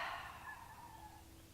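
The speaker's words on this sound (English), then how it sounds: "we can hear the birds this morning" Outdoor birds call in the morning, faint and distant, with one drawn-out honking or gobbling cry that fades away under a quiet background hum.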